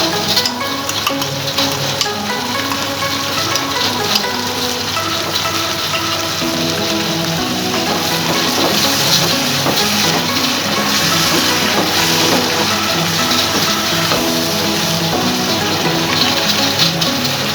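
Chickpeas for chikar cholay cooking in a pan with yogurt added, a soft continuous sizzle and bubbling with occasional stirring, close and steady, with no talking.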